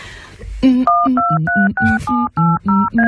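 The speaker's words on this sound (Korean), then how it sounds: "잠깐 있어봐. 전화 좀 걸게." Telephone keypad dialing, a rapid sequence of about nine distinct dual-tone beeps in steady rhythm, loud and close, with no voices.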